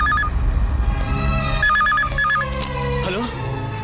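Telephone bell ringing in a Telugu movie scene, a repeated electronic trill in short bursts with dramatic background music and voices speaking over it.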